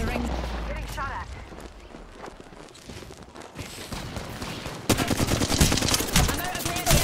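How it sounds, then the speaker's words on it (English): Gunfire in Apex Legends: scattered shots and bursts under a speaking voice, building into a louder, dense stretch of rapid automatic fire. "Getting shot at."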